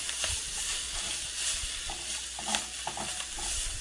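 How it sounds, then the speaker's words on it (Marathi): Ground masala paste frying in oil for a chicken gravy, giving a steady broad sizzle and hiss with occasional stirring scrapes, close and continuous with no voices. "तेलामध्ये वाटण छानपैकी असं भाजून घ्यायचं. फ्राय करायचं आहे त्या तेलामध्ये अगदी तेल सुटेपर्यंत."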